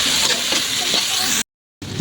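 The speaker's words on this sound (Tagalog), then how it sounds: "Ayan, gisain lang natin." Garlic and onion sautéing in a pan for Filipino tilapia pochero, a loud close hiss of frying that runs steadily, cuts out briefly, then resumes.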